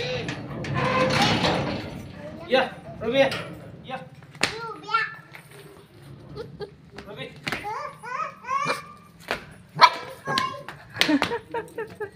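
A small puppy yips and barks in short high bursts scattered throughout, close by, mixed with children's voices and chatter.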